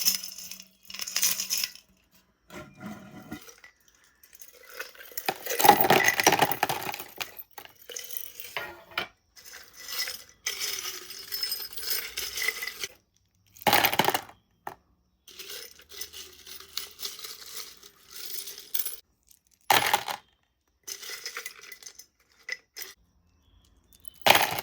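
Small metal charms rattled and shaken together in a container, bursts of bright jangling clinks that come and go in several loud bouts with quieter pauses between, no talking.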